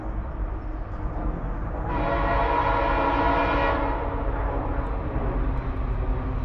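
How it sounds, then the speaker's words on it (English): A long CSX crude oil freight train with a BNSF foreign-power lashup rumbles steadily past at about 50 miles an hour. A loud horn blast of about two seconds rises over the heavy rolling roar. "It's a long train. 458 axles, 50 miles an hour."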